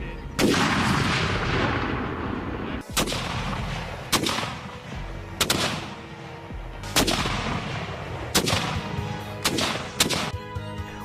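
Cannon fire bombards a city: eight heavy booms land about one to one and a half seconds apart, each with a rumbling tail, and some sharper cracks mix in.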